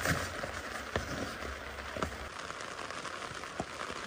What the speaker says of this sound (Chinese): 听着雨滴声，